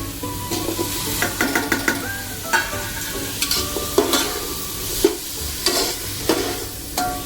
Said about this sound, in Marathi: टोमॅटो पण आपण थोडा परतू देणार आहोत